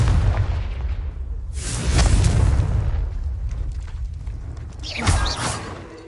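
A Confringo spell explosion in Hogwarts Legacy, a deep rumbling boom that swells and fades, followed by a second sharper blast near the end with lingering debris noise.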